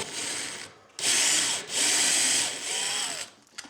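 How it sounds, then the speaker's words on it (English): A power drill with a Forstner bit whirs loudly in three long bursts with short pauses between, grinding into a wooden handrail up close. "I had to switch to a different drill bit because this one, the Forstner bit, grounded out."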